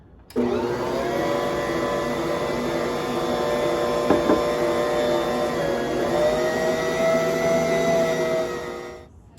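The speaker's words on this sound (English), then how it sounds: "I'm gonna let that mix again for several minutes" A stand mixer kneads fresh-milled wheat bread dough with a loud, steady whirring motor hum. The hum has a strong tonal whine, carries on for several seconds without a break and ends abruptly.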